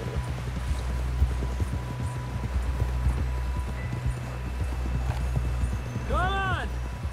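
Horse hooves clip-clopping at a steady pace in Red Dead Redemption 2, rhythmic and mid-distance beneath a constant low drone, with a brief whinny near the end; a voice speaks briefly.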